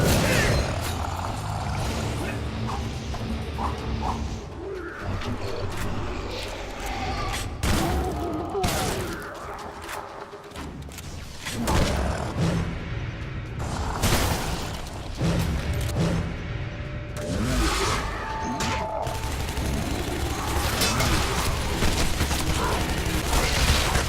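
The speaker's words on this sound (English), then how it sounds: "that's the machine gun" A machine gun firing in the shooter game Shadow Warrior, heard as a dense, loud, continuous stretch of rapid gunfire with booms and mechanical clatter, barely pausing over about twenty-four seconds.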